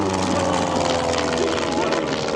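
At an airshow, a plane with rear-mounted engines and its tails at the front runs its engines with a loud, steady, close-up drone and a hum throughout.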